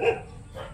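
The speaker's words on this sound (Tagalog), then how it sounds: "Nadinig nyo? Aso kaagad yung sumalubong sa akin." Dog barking at someone's arrival during a visit to a business partner's home, a single short bark near the start of the clip, then a quiet room tone.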